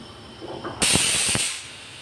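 A pressure cooker cooking Bombay duck and potato curry suddenly lets out its first loud, hissing steam whistle that holds for under a second before tapering off.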